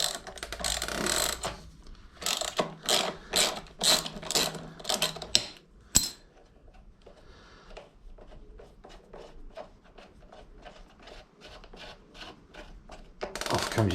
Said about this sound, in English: in goes your crank puller, like that. Wind that in, and then that will wind your crank out.